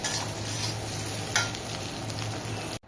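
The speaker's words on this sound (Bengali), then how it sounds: "তো এবার ফ্রাই হয়ে গেছে, আমি এবার প্লেটে ঢেলে দিচ্ছি।" Fried bitter gourd slices sizzle in a pan as a spatula scrapes and stirs them, one sharper scrape standing out, before the sound cuts off abruptly as they are tipped onto a plate.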